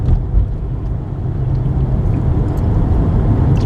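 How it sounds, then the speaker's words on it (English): Heavy road traffic from inside a car moving at about 30 miles an hour: a loud, continuous low rumble of engine and tyre noise, steady throughout, with no talking. "See how thick the traffic is?"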